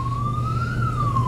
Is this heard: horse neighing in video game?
no